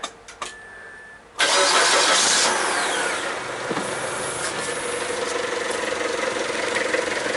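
A 2003 Mazda Protege with a misfire at idle cranks with a few short bursts, then catches and starts with a loud surge before settling into a steady, rough idle, close up with no talking.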